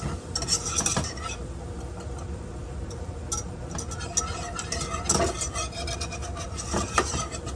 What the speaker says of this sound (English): we're going to give this a good whisk because you just want to make your roux